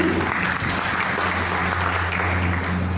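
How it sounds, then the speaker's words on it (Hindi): Loud, steady applause from an audience at a direct selling training seminar in a hall, sustained dense clapping with a low hum underneath. "मैं चाहता हूँ उस व्यक्ति के लिए जोरदार तालियां होनी।"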